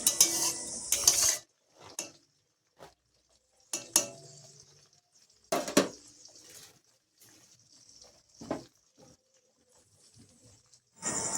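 Aloe vera pieces stirred in hot oil in a pan, giving scattered clatters and scrapes of utensil on metal with sizzle in bursts and quiet gaps, close and moderately loud.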